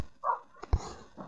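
Dog sounds in the Minecraft video game: a short whimpering yelp followed by a couple of soft clicks and faint barks, quiet and brief with no talking.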